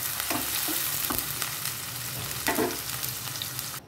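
Chopped onion and garlic sizzle in a pan while being stirred, a close, even frying hiss marked by a few quick scraping strokes and ending in a brief clatter.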